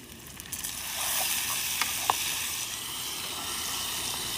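Tomatoes go into a mixed vegetable stew, setting off a steady close-up sizzle and hiss that swells after the first second, with a couple of brief sharper pops, and no talking.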